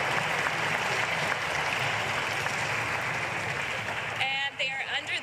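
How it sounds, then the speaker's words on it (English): A crowd at a school governing board meeting claps and applauds students steadily for several seconds before the clapping fades as the applause dies down. "How about one more round of applause for these students?"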